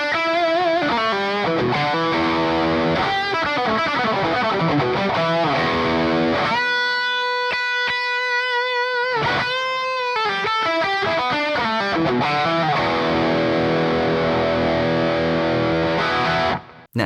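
An electric guitar played through a 50-watt amplifier with overdrive, recorded straight from the speaker at low volume, ringing out distorted chords and sustained notes, with a held passage in the middle before the riffing resumes and cuts off abruptly.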